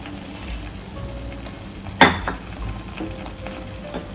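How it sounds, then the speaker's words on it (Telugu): Onions for a crab curry fry in hot oil with a steady, low sizzle, broken by one sharp clatter and a few soft stirring scrapes in the pan. "బాగా ఉల్లిపాయ పచ్చివాసన పోయే వరకు వేగాలి"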